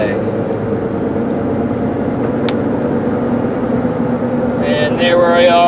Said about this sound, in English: I hear a little bit of tire noise. It sounds like some road noise.